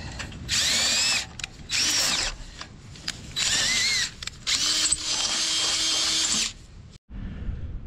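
A power drill whirs in close, loud bursts of about a second each, stopping and starting several times during a junkyard log arch build, with one longer steady run near the end.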